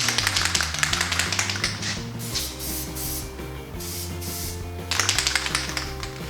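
A spray can of PlastiDip rattles in quick, repeated bursts of shaking, pausing briefly midway, with steady background music underneath.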